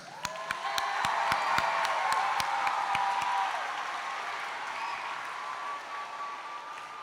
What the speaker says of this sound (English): And let's give a big round of applause to all of our flag bearers.